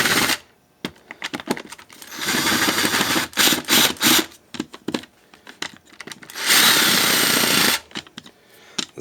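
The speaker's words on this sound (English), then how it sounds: "Just going to be doing a quick little countersink." A hand drill countersinks screw holes for flathead screws on a full-size Wall-E tread assembly: three loud, gritty whirring runs, the middle one broken into quick stutters, with quiet pauses between.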